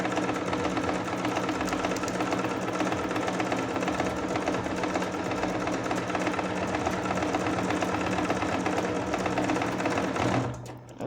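Domestic sewing machine stitching a buttonhole, a fast steady whirring needle rhythm running loud and close almost throughout before stopping abruptly near the end, no talking over it.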